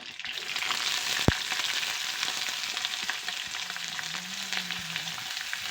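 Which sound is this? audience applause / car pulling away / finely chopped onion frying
finely chopped onion frying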